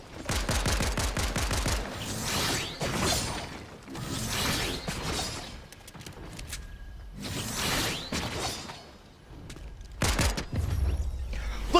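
Bursts of video game gunfire crackle in rapid volleys, loud sharp shots separated by short gaps, mixed with mechanical clicks and whooshes.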